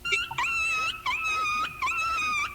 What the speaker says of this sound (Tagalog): May aso pala dyan.